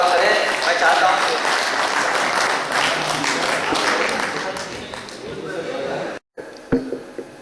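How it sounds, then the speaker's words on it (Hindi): Loud applause from the audience at an All India Mushaira and Kavi Sammelan in Nainital, welcoming a poet: dense sustained clapping that fills most of the clip, then cuts off briefly before a few scattered claps. "जोरदार तालियों से उनका स्वागत करें।"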